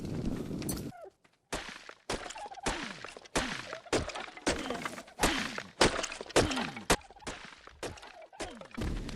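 Trees being chopped down in ARK Survival Evolved, producing a rapid series of sharp wooden thunks and cracking breaks at close range, repeating steadily with brief gaps.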